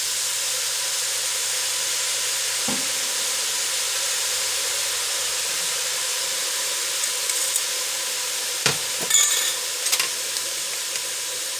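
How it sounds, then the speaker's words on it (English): A steady, loud hiss of onions, celery and peas cooking in a pot for beef stew fills the whole stretch, broken by a couple of brief clunks and rattles near the end. "let's get the onions going, and the celery going. So I'm going to drain the peas. And throw those in there."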